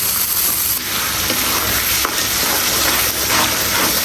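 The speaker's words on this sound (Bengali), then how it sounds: "চিকেনের জন্য মশলাটা একদম কষাই নিলাম" Chicken masala being fried and stirred in a pan, a loud, continuous sizzle with steady scraping of the spoon close by, no talking.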